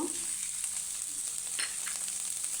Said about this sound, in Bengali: এরপর আমি কুচি চিংড়িগুলো হালকা একটু সরিষার তেল দিয়ে